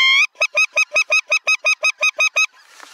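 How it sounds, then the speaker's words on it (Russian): Geese honk as they come down among decoys during a spring goose hunt: one long call is followed by a regular series of about eleven loud, evenly spaced nasal honks, close and clear, then quiet rustling. "один гусь сел. Пусть садятся. Место. Один гусь сел в чучела."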